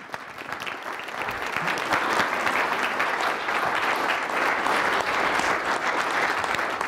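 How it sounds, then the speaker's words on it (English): An audience at a presentation breaks into clapping that swells over the first couple of seconds, then holds as a steady, dense patter of many hands with no voices over it. "Now you can clap."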